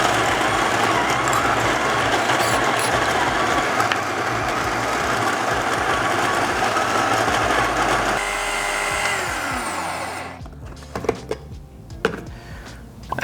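A home filter coffee grinder runs loud and steady, grinding about 18 grams of beans in a continuous whirring roar, then winds down and stops, leaving a few small clicks and knocks near the end.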